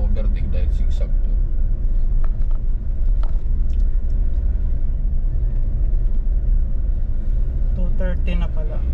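A 2020 Mitsubishi Montero climbs slowly uphill on the winding Old Zigzag road at Tayabas, its steady engine rumble and road noise filling the cabin while people talk inside throughout.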